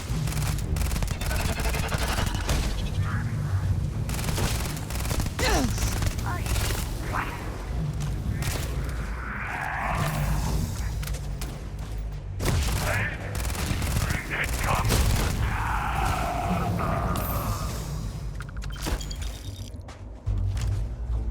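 A Vortex weapon in the Starfield Shattered Space expansion fires in repeated sharp bursts against a busy combat din of mechanical clanks and swirling whooshes. A person talks over parts of it.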